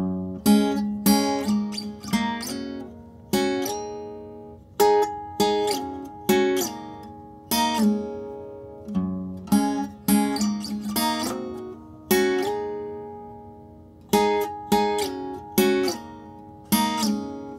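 Acoustic guitar plays the lead part of a country song slowly, single plucked notes and short phrases ringing out with gaps between them, close and clear, no talk.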